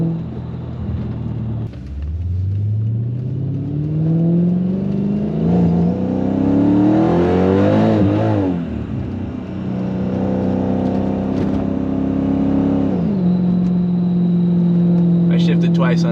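A Mercedes-Benz CLK55 AMG engine with the M113K engine revs up through rising pitches, dropping with each gear shift, then settles into a steady drone close by.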